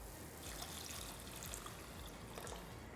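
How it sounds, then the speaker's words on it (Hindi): Water pours into a thick, cooked-down spiced yogurt curry for dahi bhindi, a steady faint trickling and splashing stream running continuously without talk. "अब इसमें हम डालेंगे पानी।"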